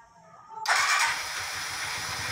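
A motorcycle engine starts after a short whine from the starter, catching abruptly into a loud burst and then settling into a steady close-up idle.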